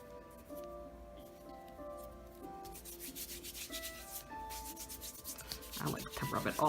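Cuticle oil is rubbed onto magenta chrome gel nails, producing soft, close rubbing and brushing strokes that grow busier and louder toward the end.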